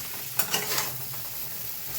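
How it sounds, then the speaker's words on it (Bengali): Shrimp and potatoes cooking in a pan in a home kitchen, with a constant hissing sizzle and a brief clatter of stirring near the start, close and fairly loud, with no talking. "আলু দিয়ে আর চিংড়ি মাছ দিয়ে রান্না করছি"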